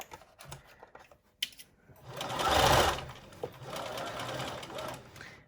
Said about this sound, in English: And we're now going to stitch down the length of the seam.